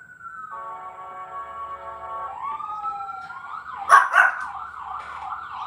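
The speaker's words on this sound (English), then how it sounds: "You heard the sirens, right?" An emergency vehicle's wailing siren rises and sweeps in pitch with a steady horn-like tone before it, and a dog barks a few times partway through.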